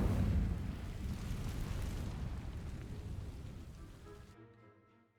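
A fire spell sets vines ablaze in a Hogwarts Legacy game scene, opening with a heavy rumbling whoosh that settles into a steady crackling roar, slowly fading before cutting off abruptly.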